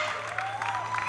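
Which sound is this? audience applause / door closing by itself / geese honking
audience applause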